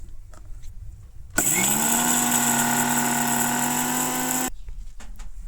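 A kitchen mixer grinder whirs loudly at close range as it grinds spices for crisp nimki snacks, starting abruptly, running for about three seconds at a steady high whine, then cutting off, with no talk.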